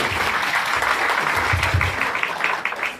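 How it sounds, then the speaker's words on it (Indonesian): An audience clapping for Dr. Richard at a product presentation, a short burst of steady applause, fairly close, with some low voices murmuring beneath. "Kasih tepuk tangan dulu untuk Dr."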